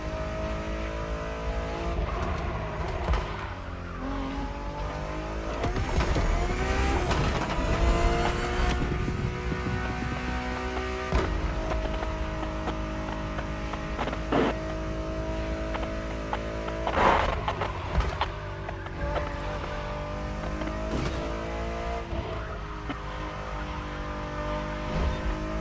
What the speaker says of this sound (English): Tá pinando grama com a Ferrari, né?